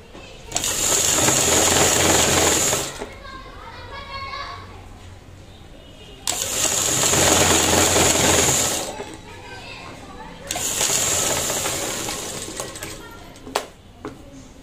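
Sewing machine stitching a blouse, running in three long bursts of rapid, even whirring separated by pauses, with children's voices audible in the background.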